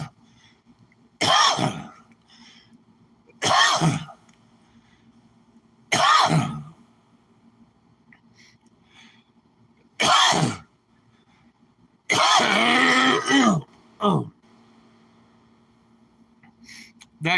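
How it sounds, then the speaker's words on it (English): Harsh, wet coughs come in separate bursts, one at a time with quiet gaps between, ending in a longer rattling fit, close and fairly loud. "in older people, it's a cardiac cough"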